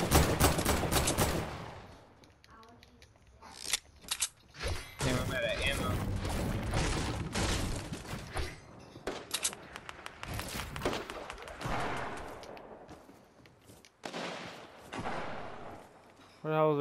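Gunfire in Fortnite crackles in scattered bursts and single shots, some loud and near, others more distant, interleaved with players talking over the action.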